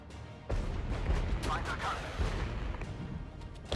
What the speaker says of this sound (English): We're taking a lot of artillery fire from up here.